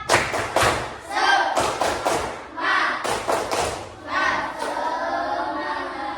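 Classroom of students doing a rhythmic 'tepuk semangat' clapping chant, loud close bursts of hand claps in patterned groups separated by short pauses, with voices mixed in.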